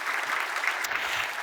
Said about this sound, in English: So I'm going to give them a round of applause.